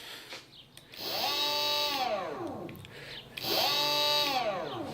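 Electric bike motor kit on a Vierbike Quadra Sprint quadricycle running in forward, spinning up twice with a rising then falling whine, each run holding a steady high-pitched hum at close range.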